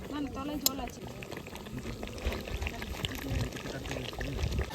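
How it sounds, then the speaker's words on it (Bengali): Water is poured into a pot of meat curry cooking outdoors in a forest, giving a soft splashing pour and bubbling under ongoing talk. "এই জলটা দিয়ে দিলাম। আর একটু জল দিয়ে দিলাম।"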